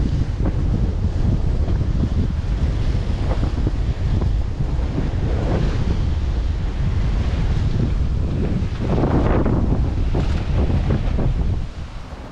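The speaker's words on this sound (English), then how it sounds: "it's nice to keep ahead of these waves, you know, they're starting to crest and break" Ocean waves crest and break around a Rival 41 sailboat at sea, a continuous loud wash of surf and gusting wind buffeting the microphone, with no talking.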